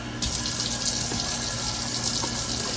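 Four cups of water mixed with flour and soup mix are poured into the bottom of a roasting pan for turkey wings, making a steady close splashing gush that continues without talk.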